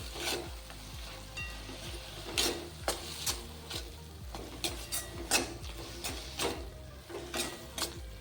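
Salted brinjal bharit being sautéed in a pan, with quiet sizzling under a series of sharp, irregular spatula scrapes and knocks against the metal, close and fairly soft.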